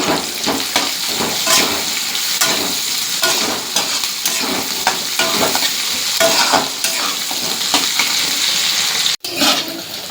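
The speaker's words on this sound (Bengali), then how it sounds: "এবার এটাকে হালকা হাতে একটু ভেজে নেব" Spices with cumin are lightly fried in a pan, with close, busy stirring scrapes and clicks over a steady sizzle, loud and continuous, with one abrupt dropout near the end.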